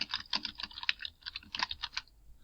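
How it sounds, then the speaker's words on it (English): Rapid clicking keystrokes on a computer keyboard as a book title is typed into a library catalog search, in short uneven bursts with brief pauses, close and fairly quiet with no talking. "I can type it in."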